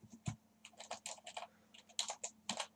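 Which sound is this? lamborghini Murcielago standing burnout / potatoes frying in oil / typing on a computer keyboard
typing on a computer keyboard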